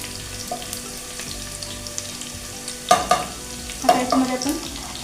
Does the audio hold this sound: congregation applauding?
no